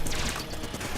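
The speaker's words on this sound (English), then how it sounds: "Time to use my laser rifle on the Gatling gun." A laser rifle fires in rapid, crackling bursts during an Enter the Gungeon fight, aimed at a Gatling gun enemy; the short, fairly quiet volley plays without talk.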